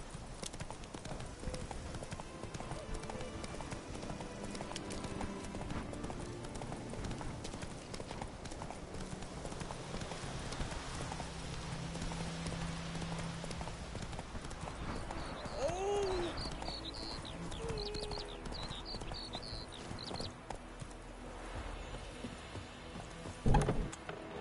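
Roach the horse gallops in a PS4 game, a brisk, steady clip-clop of hooves running continuously at moderate loudness, with faint game ambience and a brief whinny-like tone partway through.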